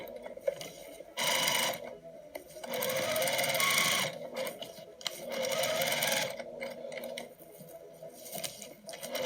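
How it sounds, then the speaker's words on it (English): A sewing machine top stitches around a patchwork basket at a regular stitch length, running in three steady, moderately loud bursts separated by brief pauses, with no talking. "So I'll top stitch using a regular stitch length of about 3 millimeters."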